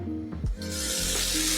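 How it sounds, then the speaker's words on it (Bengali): Eggs sautéing in a pan with cumin powder and chili, a broad steady sizzle that swells after a brief scrape and then hisses on continuously at close range, with no voices. "দুটা ডিম, আধা চামচ জিরের গুঁড়ো, আর 1 চামচের মতন লঙ্কা দিয়ে এটাকে ভালো করে কষাবো।"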